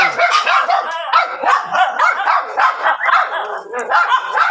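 A dog barks repeatedly and insistently while being groomed, a rapid run of sharp, loud, close barks and yips that carries on for the whole stretch with hardly a pause.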